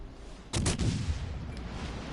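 Warship gunfire in World of Warships Legends: a single heavy broadband blast with a second close behind, sharp and loud near the start, decaying into a lingering rumble with no talk.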